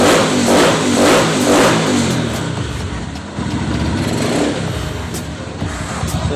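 A car engine, just repaired after a broken valve, revs up strongly and then settles into a steady running note, loud and close with no talk over it.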